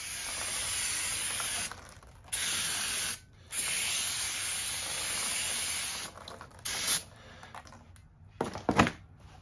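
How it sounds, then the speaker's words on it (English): Brake cleaner sprays from an aerosol can onto a new factory-coated rear brake rotor on a Lincoln MKX or Ford Edge, loud close hissing in long sustained bursts broken by short pauses, ending in a few quick choppy spurts. "we're gonna spray these and clean them up a little bit with some brake cleaner"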